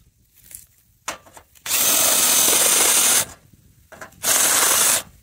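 A power drill fitted with a step drill bit whines up to speed in two loud, sustained bursts, each preceded by short trigger blips and separated by quiet moments, close up in a workshop.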